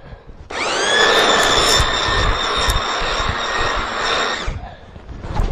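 An electric hedge trimmer buzzes steadily for about four seconds as it cuts through thick hedge, a loud, close whining drone with a sharp start and stop and scattered snapping of branches.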